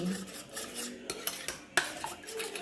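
A utensil beats eggs for an omelette in a bowl, a quick run of scraping, clinking taps against the sides, close and clear with no talk.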